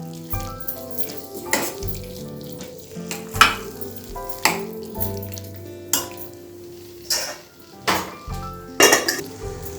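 Brinjal curry with coriander paste frying in a pan, with a steady sizzle under repeated clinks and scrapes of a spoon against metal as it is stirred, close and moderately loud.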